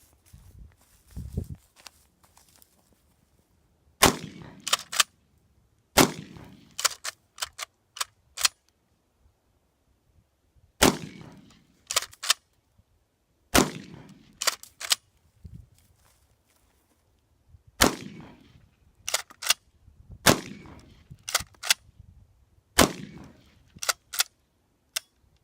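A Kel-Tec KSG shotgun is fired repeatedly outdoors, sharp loud cracks spaced several seconds apart with a few quicker follow-up shots and mechanical clicks and clatter between them.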